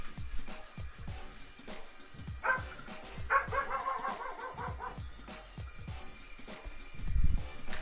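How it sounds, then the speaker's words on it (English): A dog barks and yelps excitedly in a home during a Supercross game broadcast, with repeated sharp, close barks rising to a louder burst near the end. "And my dog is flipping out right now."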